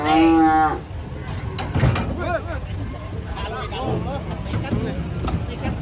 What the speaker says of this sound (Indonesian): Menjelang kurbanan pasti ada sapi ngamuk ini.